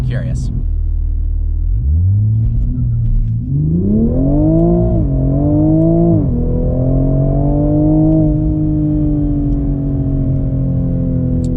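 A tuned 2020 Toyota Supra launches with launch control, its engine holding a steady idle rumble before the revs climb through rising gear pulls, loud and close inside the cabin.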